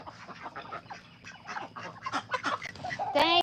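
Chickens being herded into a coop for the night, with a dense, restless run of clucks, squawks and honk-like calls that grows busier toward the end, near and fairly loud.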